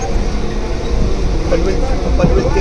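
A local suburban train carries passengers from Panvel to Chunabhatti with a steady, loud rumble and rattle of the carriage throughout, and voices murmur underneath.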